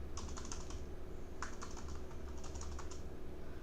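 Light, quick keystrokes on a computer keyboard tap out short bursts of typing over a steady low hum, with a pause in the middle before the clicking resumes.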